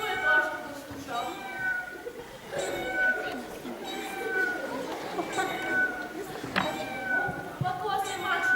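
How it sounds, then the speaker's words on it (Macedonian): Kittens meow repeatedly in short, high, rising cries scattered throughout, some overlapping, heard in a theatre drama-studio setting with people talking and stage noise beneath. "Па тоа се мачиња, прекрасни"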